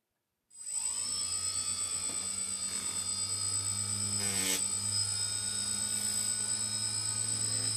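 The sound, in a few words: DJI F450 quadcopter drone motors and propellers spinning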